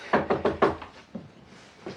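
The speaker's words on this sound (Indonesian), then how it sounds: "ada suara ketukan pintu dari luar" Knocking on a door: a quick run of four hollow knocks, then a single knock and one more after a pause, close and moderately loud.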